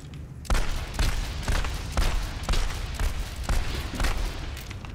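Rapid, rhythmic gunfire in the video game Overwatch, with bursts of loud shots repeating roughly every half second over a steady rumble of game sound.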